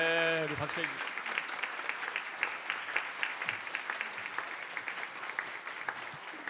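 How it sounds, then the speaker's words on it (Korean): A church congregation applauding during a Sunday worship service, a sustained round of clapping that swells after a brief voice and carries on evenly for several seconds, filling the room. "우리 박수 해주십시오."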